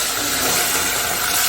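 Water pours steadily onto sugar in a pan to make syrup for bread gulab jamun, a continuous close splashing rush with no talk.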